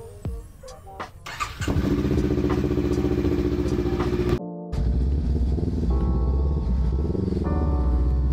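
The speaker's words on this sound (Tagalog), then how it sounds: "kailangan mo natin painitin, i-warm up ang ating motor." A motorcycle engine clatters to life and settles into a loud, steady warm-up idle, cutting out briefly before rumbling on with a rhythmic, throbbing putter.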